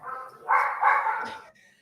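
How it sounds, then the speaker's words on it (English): A dog barks at home, a short pair of muffled, fairly close barks with no talk over them. "Dima has a dog that tends to bark."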